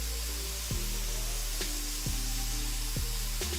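A pressure washer sprays in a power-washing video game, giving a steady, loud hiss over a low motor hum. The jet holds continuously, with slight shifts as the spray moves across surfaces.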